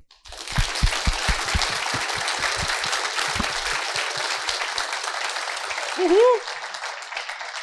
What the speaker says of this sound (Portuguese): eu queria pedir uma salva de palmas para o pessoal da organização